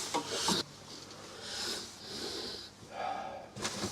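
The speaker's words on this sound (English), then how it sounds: "now it's on to sanding" An elm and walnut bowl is sanded with steady rasping strokes, a coarse scratching that rises and fades in bursts, close up and fairly quiet.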